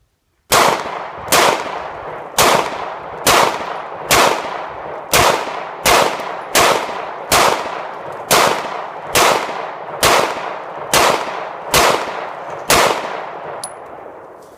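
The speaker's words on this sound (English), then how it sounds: "As you can tell, I actually speeded up my rate of fire this time" A Glock 19 pistol fitted with a Crimson Trace laser fires about fourteen loud, sharp shots at an outdoor range, each crack ringing out in a quick, steady rhythm at roughly one-second intervals.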